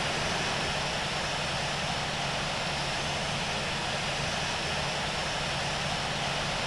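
An Avianca airliner rolls for takeoff from runway 14 right at El Dorado in the flight simulator Infinite Flight, its engines giving a steady, unbroken roar throughout.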